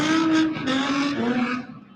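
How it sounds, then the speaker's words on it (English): Cars at a downtown Los Angeles street takeover rev their engines and spin their tires, a loud sustained squeal with engine tones that wavers and then fades away. "Engines revving, vehicles spinning, rubber burning, fireworks exploding."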